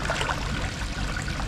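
Water sprays steadily over animals being showered on a Mekong Delta excursion in Vietnam, with a constant close hiss and splash and no voices.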